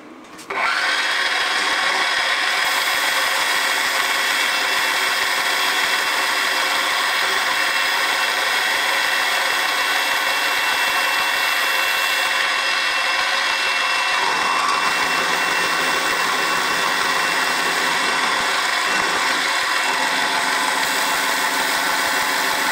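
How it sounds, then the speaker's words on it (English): A milling machine takes a facing cut across a metal workpiece clamped in a vise. It makes a loud, steady whine and grinding hum that starts abruptly and runs without a break for over twenty seconds, with no talking. "I'm going to machine a good face on there so we've got something to start with."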